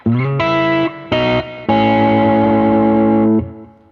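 A Greco electric guitar through the blues side of a Protein overdrive pedal, voiced like a Marshall Bluesbreaker, plays a few short chords, then a sustained ringing chord that fades out, with a warm, gritty tone.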